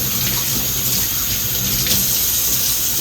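Tap water runs in a steady, close stream into a sink while bananas are washed before peeling, a constant splashing hiss with no speech.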